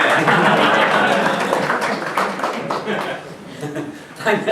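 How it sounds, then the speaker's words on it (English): Crowd at a GovTech supplier event applauds a councillor walking up, a full burst of clapping with chuckles and laughter mixed in, tapering off toward the end. "I wasn't expecting a round of applause from walking from there to here."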